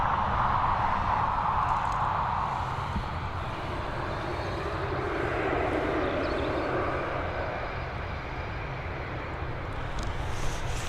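A passenger airplane landing at Dublin Airport, its engine roar steady and moderately distant, a broad continuous rumble and whoosh that holds level for about eleven seconds without talk.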